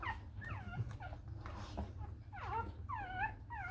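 A one-day-old newborn Rottweiler puppy whimpers with a string of thin, rising and falling cries, several in quick succession and close by, over a low background hum.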